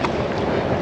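Wind blowing outdoors by the water at the tip of Cape York, Australia: a steady, loud, rushing roar buffeting the microphone for the whole short moment, with no talk.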